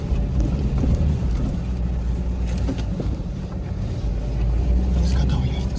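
An off-road vehicle's engine drones loudly and steadily on a frozen lakeside trail near Borjomi and Kakhisi, with wind buffeting the microphone and voices talking over the rumble.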